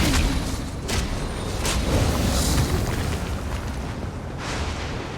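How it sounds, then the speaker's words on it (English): Electrical explosions in the Elder Scrolls Online Deadlands zone go off as a run of loud, booming bursts, several sharp blasts spaced a second or so apart over a continuous rumbling game backdrop. "Watch out for the electrical explosions."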